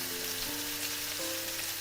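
Cabbage and carrots sizzle and fry in a hot wok, giving a dense, steady hiss close by with faint tonal scraping from stirring.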